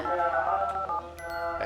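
Telephone being dialed, a short run of tones and beeps lasting under two seconds, close and fairly loud with no talk over it.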